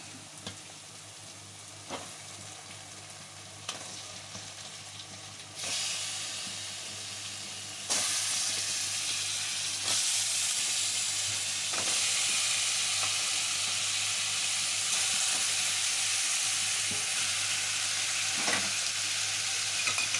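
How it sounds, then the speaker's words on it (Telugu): Fish pieces dropped into hot oil with masala for a Godavari-style tamarind fish curry, sizzling steadily close by, the frying hiss growing louder and denser in steps and then holding a strong continuous crackle, with a few faint clinks. "మసాలా ద్వారగా వేగిపోయినని ఇప్పుడు ఫిష్ ముక్కలు వేసుకుందాం"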